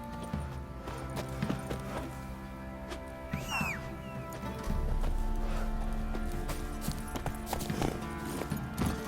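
Horse hooves clip-clopping in The Witcher 3, a steady close rhythm of hoofbeats over game ambience that quickens and grows fuller partway through, with a brief whinny-like sound midway.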